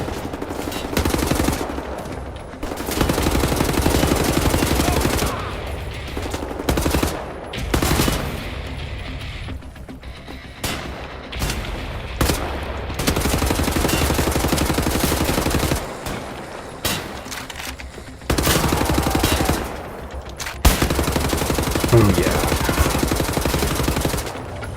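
Gunfire in the shooter game Wolfenstein: The New Order, with repeated bursts of rapid automatic fire and single heavy shots in clusters separated by brief lulls, loud and dense throughout.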